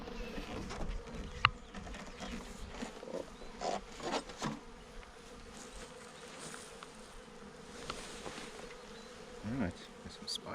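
Honey bees swarm around a farm hive in Portugal, a dense continuous buzz of many insects close by with individual bees droning past, no talking over it.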